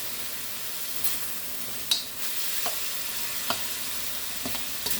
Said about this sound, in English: I know I'm stirring this around, but I'm just trying to get it to cook up